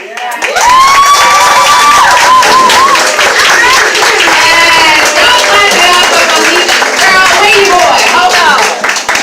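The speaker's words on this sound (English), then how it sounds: "Y'all clap it up for Felicia Levi one more time." Loud, sustained applause and cheering from a live audience at a poetry performance in Bronzeville, clapping and whoops filling the room continuously with shouts rising through the crowd.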